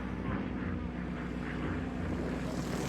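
A World War II supply plane flies overhead near besieged Bastogne, its engine a steady, dense low drone that holds at an even loudness throughout.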